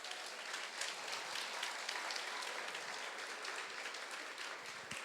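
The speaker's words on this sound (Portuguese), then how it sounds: "uma salva de palmas para os irmãos" A church congregation claps together in sustained, even applause that fills the space at a moderate distance, steady for the whole stretch with no voices standing out.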